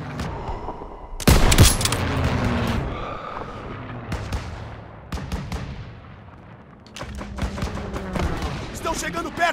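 Gunfire aimed at turrets in Call of Duty WWII, with a heavy burst of shots and explosions followed by repeated rattling volleys and booms. Shouted voices sound through the battle.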